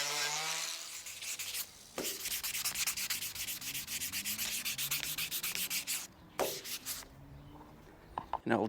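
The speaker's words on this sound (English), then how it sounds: "I had to use the sander on the grey paint" A power sander scrubs grey paint off a surface in quiet, rhythmic rubbing strokes that stop briefly twice, with faint pauses between passes.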